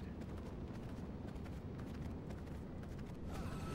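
Horse hooves clip-clop in the V Rising video game, a steady rapid beat of footfalls running under a dense, noisy game soundscape.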